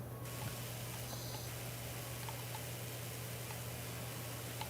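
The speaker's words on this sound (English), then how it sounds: "Let's see, let's spray the top." A pressure washer sprays steadily in Power Wash Simulator as a continuous hiss of water over a constant low hum, quiet and unbroken, with no talking.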